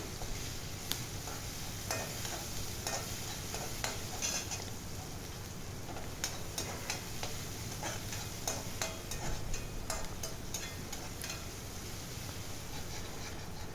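Steady crackling sizzle of chopped onion and garlic frying in oil in a pan, with occasional scrapes and clinks of a utensil stirring.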